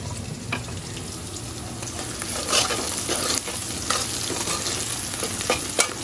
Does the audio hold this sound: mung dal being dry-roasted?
yes